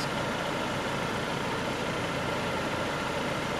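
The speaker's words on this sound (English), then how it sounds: "here is how the petrol engine sounds when it does come on." A 2024 Volvo XC60's petrol engine runs at a steady idle, giving a constant broadband rumble with no change in pitch or level throughout. No one speaks.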